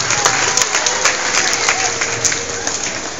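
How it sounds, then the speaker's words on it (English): A school crowd at an elementary school program claps and cheers in sustained, dense applause that stays loud and fairly even throughout. "let's give all the grades a round of applause"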